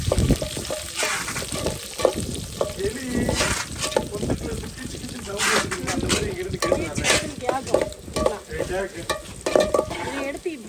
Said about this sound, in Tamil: நல்லா வெள்ளைப்பூடை எண்ணெயிலே போட்டுடணும்